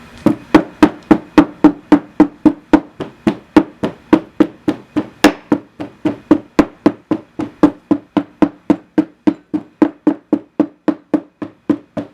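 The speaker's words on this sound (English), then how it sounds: "then I'll use the ramming tool to get it in there" A ramming tool packs sand into a metal casting mold with evenly spaced, loud, close thuds, about thirty strikes in a steady rhythm with no talking.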